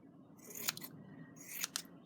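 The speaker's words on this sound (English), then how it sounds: "So then we're just going to cut that out with our scissors." Scissors snip through fabric for Tilda-style Christmas tree decorations, with a few sharp, crisp cuts in two quick clusters, close and quiet against a soft background.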